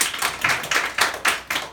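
Congregation in a church Bible-study lecture clapping together in a steady rhythmic beat, about two claps per second, close and fairly loud with no talking.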